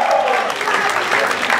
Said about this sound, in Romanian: Aplauze pentru el!